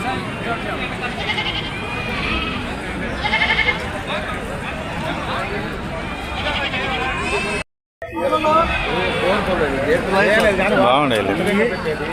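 Sheep bleat repeatedly amid a busy crowd at a sheep and goat market in Ongole, Prakasam, with people talking and a constant hubbub throughout; a brief silent break interrupts the noise midway.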